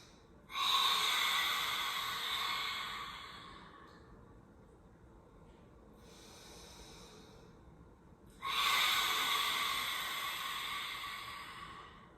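Two long, forceful breaths with the tongue out during a morning yoga warm-up, close and loud, each a sustained airy rush lasting several seconds, separated by a softer, quieter breath.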